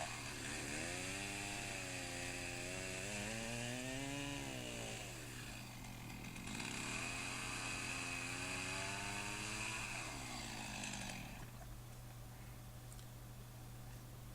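A chainsaw cutting a horse rail to length during a fence installation: a steady, loud motor whine with rising and falling pitch as the cut proceeds, easing briefly mid-way, then running on alone without talk.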